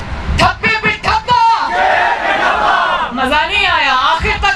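Large outdoor election rally crowd in Patheka, Azad Kashmir, chanting the slogan "thappe pe thappa" loudly in unison, rhythmic shouted bursts followed by a sustained roaring cheer, answering a leader's call.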